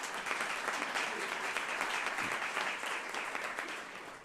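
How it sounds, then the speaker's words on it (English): A round of applause from a seated audience at a health talk, dense steady clapping that holds level and then tapers slightly near the end. "Let's give them a round of applause for their support."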